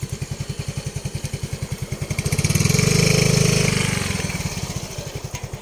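A motorcycle engine thrums with a steady pulsing beat as the bike rides along, swelling louder midway and easing off again, with no talk over it.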